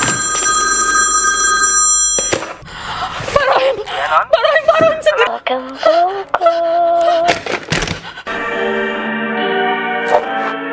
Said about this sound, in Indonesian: suara telepon berbunyi